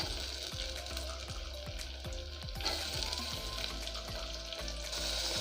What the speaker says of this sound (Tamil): இப்போ இதை நல்லா ஃப்ரை பண்ணிக்கோங்க.